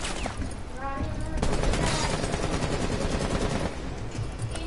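Rapid game gunfire from Rainbow Six Siege with the operator Blackbeard, dense bursts running through most of the stretch, loud and close, with a voice talking underneath.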